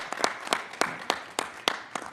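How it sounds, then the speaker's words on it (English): Sparse, light clapping from a few people at a formal meeting session, individual claps spaced roughly every quarter second, brief and fairly quiet. "Let's give ourselves applause."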